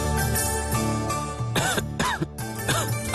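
A feverish, bedridden man coughs hard several times in a row, harsh close-up bursts with throat-clearing rasps between them in a quiet indoor scene.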